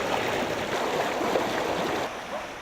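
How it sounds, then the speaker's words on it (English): Floodwater from melted snowdrifts in Logan rushes through a culvert in a steady, dense roar of churning water, loud and continuous without pause, easing slightly near the end. "Here in Logan, the snowdrifts of yesterday are the torrent of water today."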